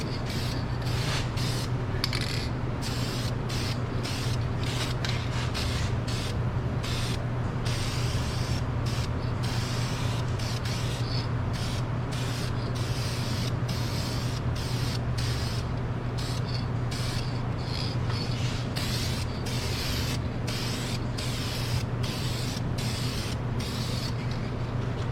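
Spray paint hisses onto brake calipers in a medium wet coat, a steady close hiss broken by rapid short bursts and pauses throughout, with no talking.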